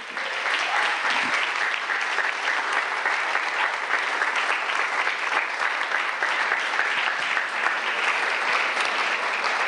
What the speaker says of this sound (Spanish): Dele el aplauso al Eterno.